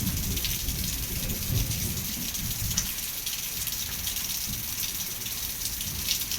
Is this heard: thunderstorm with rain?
yes